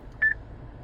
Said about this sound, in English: you press a button, release it, it beeps at you